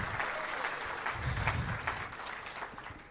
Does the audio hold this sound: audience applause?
yes